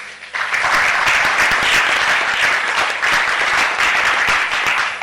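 A large audience at a public address breaks into loud, sustained applause right after a pause, many hands clapping densely and evenly for several seconds.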